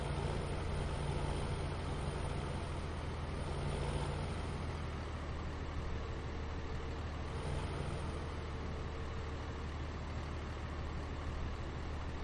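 A Kubota loader engine in Farming Simulator 15 drones steadily at a low idle-like rumble, even and unbroken throughout with no talking.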